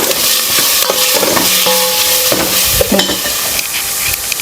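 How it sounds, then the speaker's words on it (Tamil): Onions fry in a pan with a constant close sizzle, broken by several sharp scrapes and clacks of a utensil stirring them. "முதல்ல ஆனியன் போட்டு நல்லா கொஞ்சம் வதக்கிட்டு"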